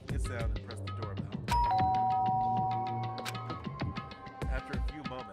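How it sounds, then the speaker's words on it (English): A doorbell chimes in the video game Danganronpa: Trigger Happy Havoc, a clear ding-dong tone ringing out and lingering over soft game music, with no talking over it. "pressed the doorbell"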